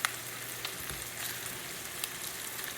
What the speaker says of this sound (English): So this is our celery and onion going in.